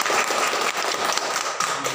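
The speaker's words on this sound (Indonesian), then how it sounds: "tepuk tangan untuk kelompok 1" Classroom applause for a student discussion group, a dense steady patter of many hands clapping together, filling the whole moment at an even level with no voices over it.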